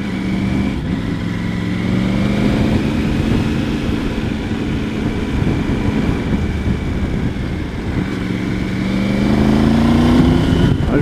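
A Triumph Tiger 900 GT Pro road trail motorcycle being ridden, its engine droning steadily with rising and falling pitch as it accelerates and shifts, close and continuous with wind noise.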